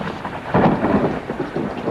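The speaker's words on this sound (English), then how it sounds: "it started to rain again" Loud, steady downpour of rain with a low rumbling roll of thunder swelling through it at a campsite, with no voices.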